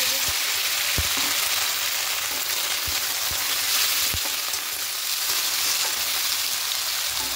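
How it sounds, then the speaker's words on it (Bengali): Chopped onions fry in hot oil with a constant bright sizzle, broken by a few soft taps of a spoon against the pan, and no talking. "পেঁয়াজটা হালকা লাল করে ভেজে নেব"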